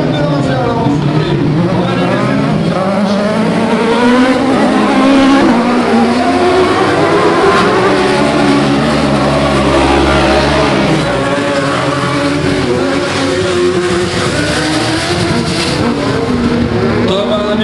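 Race cars run at the 2011 Faleyras autocross in the D3 Libre class, with loud, sustained engine roars that rise and fall as the cars accelerate, and tire noise, under a commentator's continuous talk.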